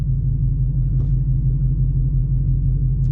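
A lowered 2025 Ford F-150 Black Widow's V8 exhaust rumbles steadily from inside the cab while driving, a deep continuous low throb with tire noise beneath it.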